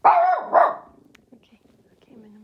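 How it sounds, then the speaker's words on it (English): Two sharp dog barks close by, followed by softer growly rumbling, with a person speaking briefly over it. "Sorry about my dog."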